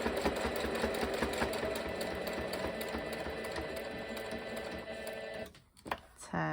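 A sewing machine stitches back over existing seams on a small patchwork needle pouch. It makes a steady, close, rapid mechanical chatter for several seconds, then stops abruptly, leaving brief handling noises.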